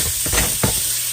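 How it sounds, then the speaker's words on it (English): Chopped onions sizzle in hot avocado oil in a pan over medium heat, a loud continuous frying hiss with a few brief stirring scrapes. "we're going to add our onions to our oil"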